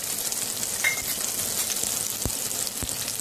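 Onion rice (kande bhat) with spices frying in a pan: a steady, close sizzle and crackle with a couple of soft stirring knocks and no talking.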